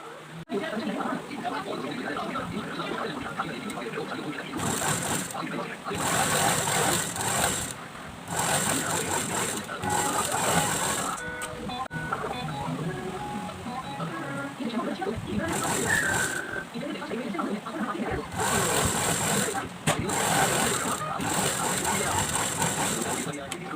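A sewing machine runs in repeated bursts while double stitching elastic uniform pants, its fast mechanical whir starting and stopping several times under a person speaking.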